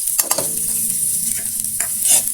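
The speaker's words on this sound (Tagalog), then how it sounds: "Okay, magigisa na tayo ng ating mga ricado." Onion and garlic sauté in a pan, a steady close sizzle broken by several scraping stirs of the spatula, with no talk.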